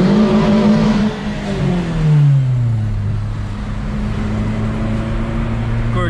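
A Renault Sandero RS accelerates hard on a street, its engine revving loudly up through the range before settling into a steady drone.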